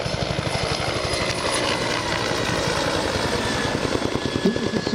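Italian search and rescue helicopter flying at the Malta Airshow, its rotor beating in a loud, steady rapid chop with a continuous engine whine, close and unbroken.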